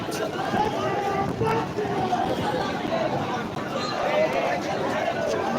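Thousands of people packed into Sealdah railway station during a rally in the rain, a dense, continuous hubbub of many voices and shuffling feet, close and steady throughout with no single voice standing out.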